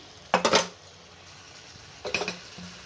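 A spoon scrapes and clinks against a cooking pot while raw mango pulao is stirred, in two short bursts of clatter separated by a quiet pause.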